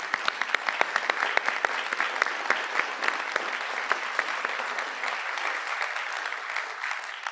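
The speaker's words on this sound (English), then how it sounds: "another round of applause" An audience at a board of directors meeting applauds, dense steady clapping from many hands that holds for several seconds and eases slightly toward the end.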